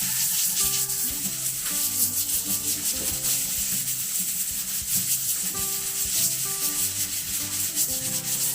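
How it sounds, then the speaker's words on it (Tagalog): Saba bananas fry in a pan of oil, giving a continuous close, crackling sizzle with a steady rushing hiss and occasional bubbling pops. No voices are heard. "Tapos prito rin po natin itong ating saging na saba."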